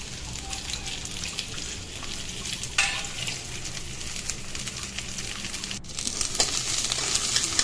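Nigella seeds and onion fry in hot oil, giving a continuous, even sizzling hiss at moderate loudness, with a couple of brief sharper crackles and no talking.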